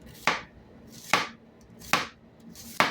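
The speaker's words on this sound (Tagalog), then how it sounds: "magtatagtad tayo ng sibuyas na sandamakmak" Onions chopped with a knife on a board, four crisp, evenly spaced chops close up with short pauses between them, no speech.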